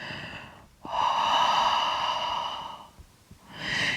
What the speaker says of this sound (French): Et on respire de cette façon en ayant la bouche fermée dans le son Ujjayi.